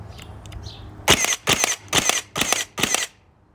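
Five sharp pneumatic brad nail gun shots in bump-fire mode, in quick, even succession, each a loud burst with a short hiss, after a few faint clicks.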